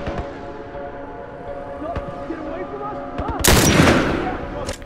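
Gunfire from The Last of Us Remastered, in a Suburbs sniper fight, with a few sharp shots over a steady game background hum and a loud burst of firing near the end.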